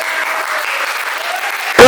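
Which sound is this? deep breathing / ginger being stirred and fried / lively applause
lively applause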